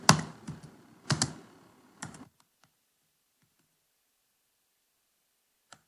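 Short bursts of typing on a computer keyboard while writing CSS box-model markup, close and crisp clicks in three clusters, then silence apart from a single faint tap.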